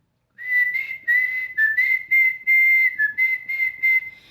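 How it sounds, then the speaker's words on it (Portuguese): A person whistles a lively tune up close, short bright phrases with brief pauses between them, alone with no other sounds. "estava sempre assobiando"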